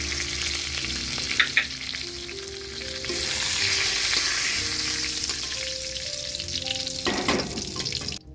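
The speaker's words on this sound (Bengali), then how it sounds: "এবার জিরে, শুকনো লঙ্কা, তেজপাতা ফোড়ন দিয়ে দিলাম, তার সাথে কটা গোটা গরম মশলা দিয়ে দিলাম।" Cumin seeds, dried red chilies, bay leaves and whole garam masala spices sputter in hot oil, making a continuous loud frying hiss with sharp crackles over a quiet melodic backing tune.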